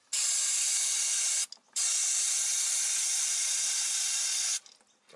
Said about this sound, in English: Flood that with brake cleaner again, and we'll watch this exit here where it comes out.